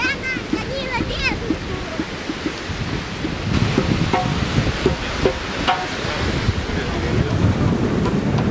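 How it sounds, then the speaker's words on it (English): Strong evening wind buffeting the microphone on the beach at Arambol, Goa, a constant rough roar with surf beneath, while people talk throughout. "It is very windy this evening"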